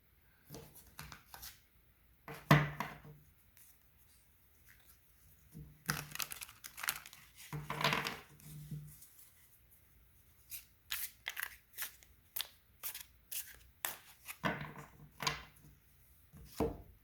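Tarot cards are shuffled and handled close by, with soft crinkling riffles and papery slides in irregular bursts between quiet gaps, faint overall.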